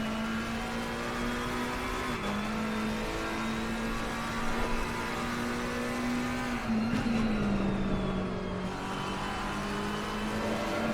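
Race car engine in a racing video game at Imola, a steady sustained drone that shifts pitch through gear changes as the car pulls out of a slow left-hand turn, loud and continuous with no talk.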